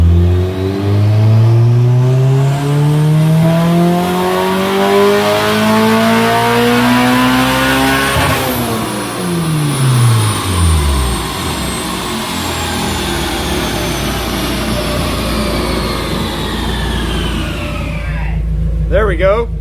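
A turbocharged 1992 Honda Civic Si hatchback with a B18C1 engine revs hard on a dyno, pitch sweeping up in a long loud pull, then dropping away after a sharp shift into roaring, rumbling exhaust that stays loud throughout.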